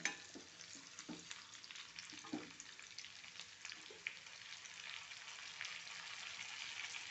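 Onion, tomato and pea curry heating and being stirred in a pan, a steady soft sizzle with occasional scraping stir sounds, close and moderate in level with no talking.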